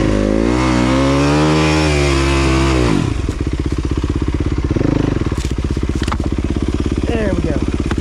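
Dirt bike with new plastics climbing a steep trail, its engine loud and close, holding a high rev before dropping into a rough, pulsing lower note.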